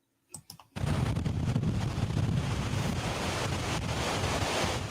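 Roaring hurricane wind and crashing surf from Hurricane Helene on the Florida coast, a loud continuous rush that follows a few sharp knocks at the start, with no voices.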